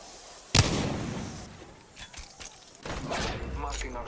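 Gunfire from enemies in Apex Legends on PS4, opening with one loud close shot, then scattered lighter bursts and a denser stretch of rapid fire toward the end over game noise.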